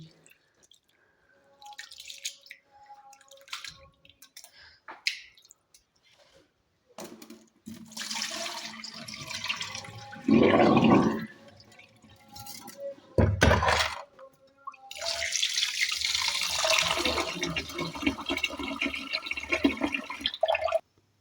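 Khichdi ingredients are washed under running water in a kitchen, with scattered drips and light clatter, then bursts of gushing, splashing water that grow louder and steadier toward the end.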